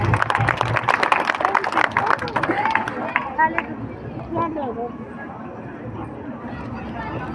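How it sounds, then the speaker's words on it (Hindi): Audience applause at a gathering for a community institution: dense, loud clapping for about three seconds, then thinning into softer crowd murmur and scattered sounds. "जोरदार तालियां इनके लिए"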